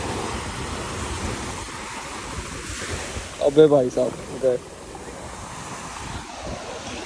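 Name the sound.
ocean waves at Goa beach with wind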